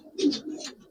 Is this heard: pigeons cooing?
yes